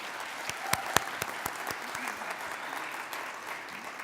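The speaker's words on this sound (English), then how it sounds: "please give them another round of applause" Applause from a graduation audience for graduates on stage: a steady patter of clapping hands with a few sharp louder claps, moderately distant and continuous throughout.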